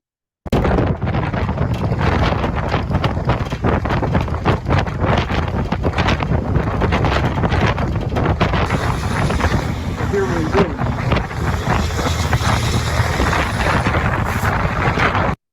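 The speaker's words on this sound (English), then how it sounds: "You're hearing wind, you're not hearing shell fire." Strong wind buffets the microphone in a steady, loud rumble throughout, a close roaring gust noise with no pauses, recorded outdoors near the Philadelphia Corridor in Gaza.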